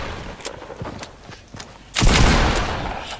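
Fortnite gameplay with scattered light gunfire pops and footsteps, then a loud burst of SMG fire that fills the last second and a half.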